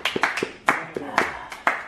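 Audience clapping and applause at a live hypnosis stage show, heard as a series of sharp bursts of claps that swell and fade repeatedly, fairly close and moderately loud.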